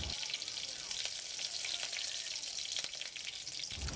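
A dried red chilli, chopped green chilli and black cumin seeds sizzle in mustard oil in a kadai, giving a steady close-up frying hiss dotted with sharp crackles and pops.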